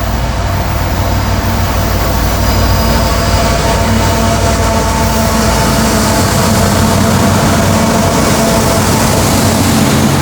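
A CSX freight train hauling empty auto racks rolls past on a southbound line, a loud, continuous rumble and rattle of wheels and cars that holds steady for the whole stretch, close by with no talk.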